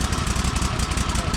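A Toro TimeCutter 60-inch zero-turn mower with a Kohler engine runs just after starting, a loud, close, steady low-throttle chug with a rapid even pulse.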